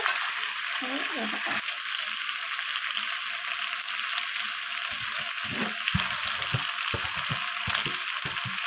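Chicken curry with chopped coriander leaves fries in a pan, a constant bright hiss with scattered low knocks from stirring.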